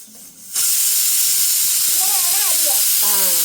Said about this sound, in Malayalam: അപ്പൊ നമ്മുടെ കുക്കർ അടിക്കാൻ തുടങ്ങിയിട്ടുണ്ട്.